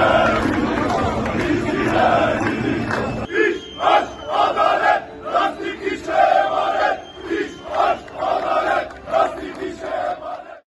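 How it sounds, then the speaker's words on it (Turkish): Tyre and rubber industry union workers in Kocaeli clap in protest, a loud crowd noise at first giving way to rhythmic bursts of collective clapping and shouting that rise and fall in waves. "üyeler alkışlı protesto eylemi yaptı"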